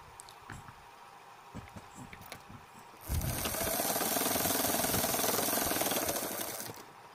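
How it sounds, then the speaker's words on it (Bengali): Sewing machine stitching blouse pieces together, starting after about three seconds of quiet handling and then running steadily in a dense, continuous mechanical whir close to the microphone. "আমি আগে সাজিয়ে নিয়েছি, নিয়ে তারপরে একের পর এক সেলাই করছি"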